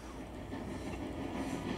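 Train wagons rolling and rattling on rails in a continuous dense rumble with faint clattering, steady and fairly close, with no voices.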